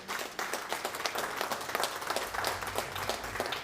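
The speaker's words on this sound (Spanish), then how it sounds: "Dar un aplauso al Rey de Gloria" A church congregation claps for the King of Glory, a moderately loud, steady patter of many hands that carries on evenly without talk.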